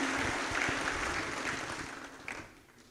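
Audience applause at a conference opening ceremony in Senegal, a dense, moderately distant clapping from a crowd that swells and then tapers off over a few seconds.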